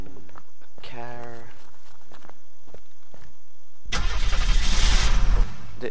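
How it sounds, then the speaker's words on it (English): Car engine starting in the video game Unturned, a loud cranking and roaring burst that begins suddenly after a spoken stretch with footsteps, then cuts off. "A car."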